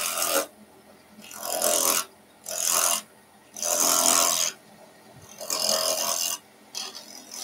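A 1/4-inch bowl gouge cuts wood on a lathe while an owl is turned, giving six loud rasping passes of roughly a second each with short quiet gaps between them, close up and alone.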